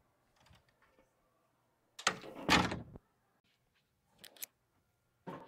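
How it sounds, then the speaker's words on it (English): A classroom door is pushed closed with a clunk of the latch and a thud, followed later by a few faint clicks and knocks in a quiet room. "Of course I'm gonna shut the door behind me."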